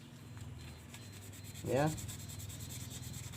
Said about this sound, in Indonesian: Bila perlu kita amplas, kerak-keraknya kita amplas